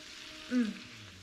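Kingfish mackerel sears in a hot pan, a steady soft sizzle with a brief louder hiss swelling in the middle as the fish settles, close and alone with no talk.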